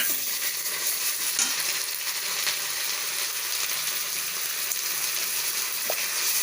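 Spice paste of garlic, ginger, cumin, coriander and chilli powder frying in a pan for chicken korma, heard as a dense, steady hiss of sizzling oil with faint stirring ticks, close and even throughout, with no speech.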